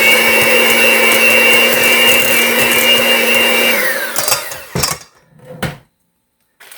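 An electric hand mixer whirs steadily through loaded twice-baked potato filling, a continuous loud motor drone that cuts off partway, followed by a few brief clatters and thumps before silence.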